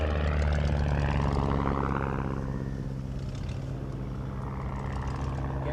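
A Miles Magister propeller aircraft lands and taxis with its engine running, a steady, moderately loud buzzing drone that holds without a break for several seconds, with no talking.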